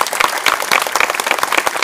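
A live audience at a Bulgarian stage performance applauds loudly and densely, with continuous close, crisp clapping filling the whole moment without a break.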